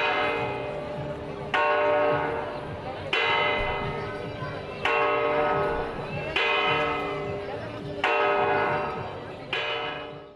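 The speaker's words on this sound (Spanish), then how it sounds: "Es el mecanismo del reloj del ayuntamiento de la ciudad, conocido por los famosos maragatos que dan la hora." Town hall clock bells in Astorga strike the hour, struck by maragato figures, with six loud, evenly spaced bell strokes about every one and a half seconds, each ringing out and decaying before the next.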